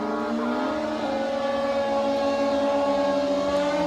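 Several Kawasaki H2 750 two-stroke motorcycles at a drag race, their engines holding a loud, sustained high-pitched wail with rising tones, heard without talk.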